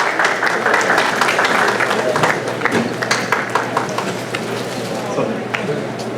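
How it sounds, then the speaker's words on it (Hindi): Audience at a Hindi poetry gathering applauds steadily, dense clapping that thins slightly toward the end, with some voices mixed in. "एक बार तालियां हो जाए।"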